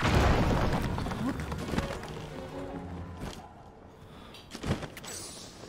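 An explosion in Zelda Tears of the Kingdom on Lightcast Island: a loud, deep boom at the start that rumbles and slowly decays, followed by a few softer thuds, with a voice talking over it.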